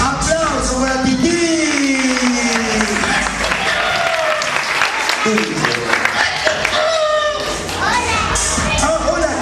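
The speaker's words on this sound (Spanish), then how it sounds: "¡Aplauso para Titi!" A studio audience applauds on a children's TV show. The clapping runs continuously and densely throughout, mixed with excited children's shouts and chatter.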